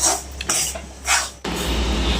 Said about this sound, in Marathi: परत आपण रवा व्यवस्थित भाजून घ्यायचा.